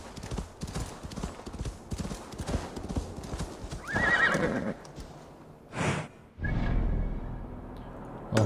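A horse in the video game Assassin's Creed Valhalla gallops in steady, rapid clip-clop hoofbeats, then gives loud whinnying neighs, with a brief break before the hooves resume.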